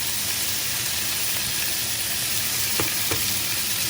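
Salmon fries in a pan for teriyaki, giving a constant, even sizzling hiss close by with a couple of faint clicks partway through.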